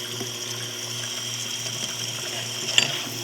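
Water pours steadily into a bottle during home ginger beer bottling, a continuous close rushing flow with a slight rising fill tone and no talking.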